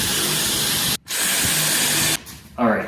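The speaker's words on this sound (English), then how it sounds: "but I'm going to drill that now." Power drill boring into a plastic cat litter box, a steady loud whirring buzz that cuts out briefly, resumes, then stops with a short clatter at the end.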